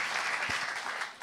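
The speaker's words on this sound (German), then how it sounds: "Applaus an unsere Techniker." A church congregation applauds its volunteer technicians, the projector, worship, sound and camera crews, with a steady wash of clapping filling the whole short stretch at moderate loudness.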